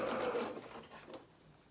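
A sewing machine zigzag-stitches down the leg of a doll's bloomers, a steady close mechanical whir that runs for about a second before easing off.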